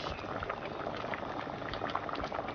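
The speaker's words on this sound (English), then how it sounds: "you're just gonna close it and let it boil" Yam porridge with Maggi boils in a covered pot, a continuous close bubbling and hissing simmer at steady volume with no talking.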